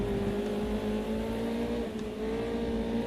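Race car engines in a sim racing video game, a steady droning engine note with a sustained whine held at near constant pitch, with one car slipstreaming another, loud and alone throughout.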